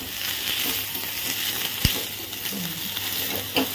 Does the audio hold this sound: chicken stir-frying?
yes